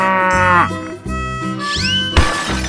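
A cartoon cow in a 3D animal slide game lets out a loud, drawn-out moo with a falling pitch, followed by swooping game effects and a sharp crash-like hit near the end.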